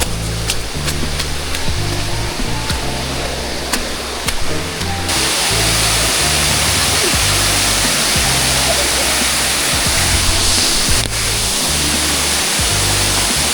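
Rushing water from the lower first tier of a waterfall, a loud, steady broadband roar close by that holds without a break, with heavy low thumping through the first few seconds, likely footsteps or handling of the recording device during a run.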